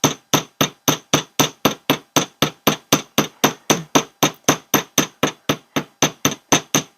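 A jewelry hammer strikes wire earwires in a steady series of about thirty sharp metallic taps, each loud and close with a brief ringing decay, evenly spaced with no talking.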